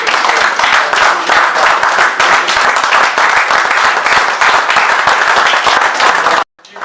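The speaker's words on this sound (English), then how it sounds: "Give these two men a rousing applause." Loud, sustained applause from an audience at a development discourse event, many hands clapping in a fast, uneven patter that holds steady before cutting off abruptly near the end.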